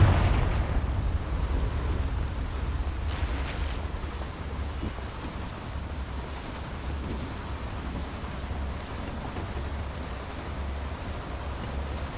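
Confringo fire spell explosion in the Hogwarts Legacy video game, heard as a loud sustained roaring, rumbling blast with a brief bright crackling burst early on, continuing steadily throughout.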